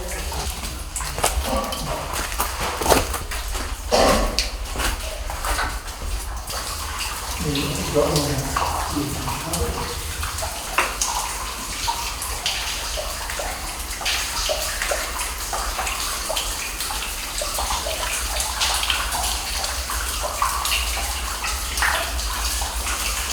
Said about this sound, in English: There are channels of flowing streams inside